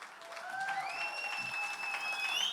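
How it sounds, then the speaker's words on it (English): An audience applauds steadily at a film trailer launch event with actors present, the clapping sustained and fairly even throughout, with music-like tones above it. "Give him a big round of applause."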